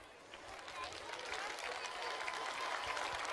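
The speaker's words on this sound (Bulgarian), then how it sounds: "благодаря ви за цялата любов и всичките аплодисменти, които ни дадохте тази вечер" Applause from a festival crowd at BG Music Festival in Sandanski: dense, steady clapping that swells slightly and holds, with faint crowd murmur mixed in.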